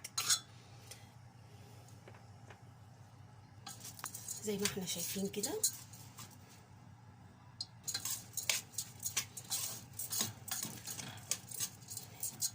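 Rice for Alexandrian koshari is stirred in oil in a pot over low heat, making scattered spoon scrapes and light metal clinks. Someone speaks quietly at one point.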